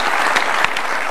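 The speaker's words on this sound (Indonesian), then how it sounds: "Kasih tepuk tangan Ibu Megawati Soekarno Putri." An audience in a televised studio show bursts into applause, a dense, loud wash of many clapping hands sustained across the whole brief moment.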